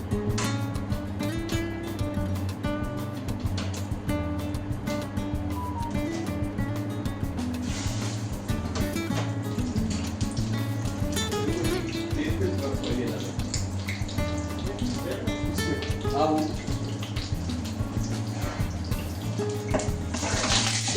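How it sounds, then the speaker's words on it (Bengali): Chicken breast dropped into hot oil for frying a Thai peanut butter chicken, giving a steady, loud hiss with bubbling crackle throughout, while a voice talks over it and faint music plays. "এখন আমি প্রথম চিকেন ব্রেস্টটা এর মধ্যে ঢেলে দিচ্ছি ফ্রাই করার জন্য।"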